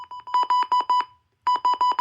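Loud, shrill electronic siren of a WR-300 alarm set to high level beeping in rapid bursts, a short pause, then the pulses resume at the same fast pace.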